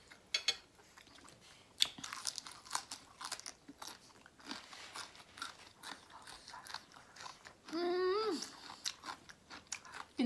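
Someone eating very spicy food by themselves chews and crunches close to the mic, with soft irregular bites and a brief whine partway through.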